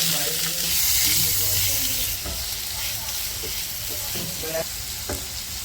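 Chopped onion sizzles with cumin in a hot pan, a steady loud hiss of frying close by, with occasional stirring knocks and scrapes breaking through toward the end.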